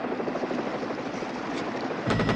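A helicopter's rotor thumps in a fast, steady chop, loud and close, over a wildfire scene, with a sharp burst of noise near the end.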